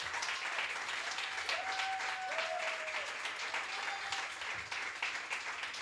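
A congregation gives sustained, loud applause for Jesus during a Spanish-language church service, a dense crackle of many hands that holds steady throughout, with a faint sustained tone drifting underneath.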